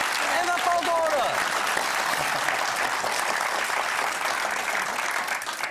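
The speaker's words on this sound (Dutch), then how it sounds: "Je krijgt een applaus van ons publiek voor je terugkomt" A studio audience gives sustained applause, a broad wash of many hands clapping at a steady level. A voice speaks briefly over it near the start before the clapping carries on alone.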